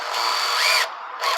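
Power drill driving a screw into the bottom beam of a wooden sawhorse: a loud, close, steady whine lasting under a second, a brief drop, then a short second burst.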